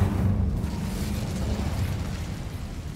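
Casting the Incendio fire spell in Hogwarts Legacy sets off a rolling, roaring fiery rumble that holds steady for about three seconds. A sharp thump closes it out.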